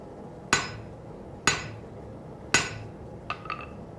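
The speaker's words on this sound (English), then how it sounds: "That's how you swing the hammer." A blacksmith's hammer strikes metal while forging, three loud ringing blows about a second apart, then two lighter taps, close up over a low background hum.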